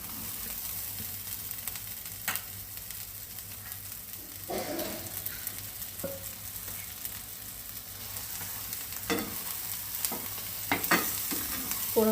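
Prawns frying in a thick masala in a pan, a soft continuous sizzle broken by occasional scrapes and stirring clinks, close and fairly quiet with no talk.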